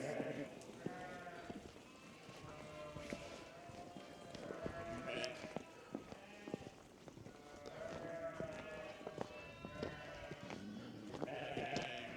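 Sheep bleat repeatedly on a farm yard coated with an inch of ice, with several calls at moderate distance and some hoof clatter between them.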